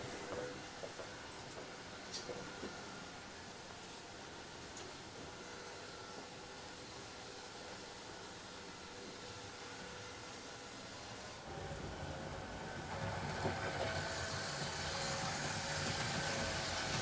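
A Märklin H0 scale model train runs on a Swiss Gotthard line layout, a faint steady rolling hum with small clicks, growing slightly louder and brighter toward the end.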